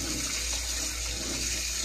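Water from a covered tap sprays under pressure while cleaning the filter screen of a window-type air conditioner, a steady loud hiss with no pauses, close and continuous throughout.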